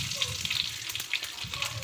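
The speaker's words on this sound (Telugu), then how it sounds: "నూనె వేసుకొని కొద్దిగా ఆవాలు, దాంట్లోనే కొద్దిగా జీలకర్ర, మరికొద్ది తెల్లగడ్డలు వేసుకోవాలి." Mustard seeds, cumin and garlic sizzle and crackle in hot oil in a pan, a brief close frying hiss with small pops and a faint voice underneath.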